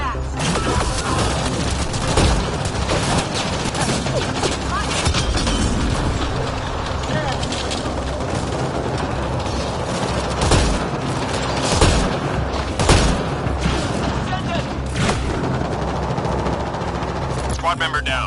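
Gunfire and explosions in a firefight in Mass Effect: Andromeda: dense, loud, continuous rapid shooting with scattered sharp booms, close up and unbroken throughout, with a voice calling out under the noise.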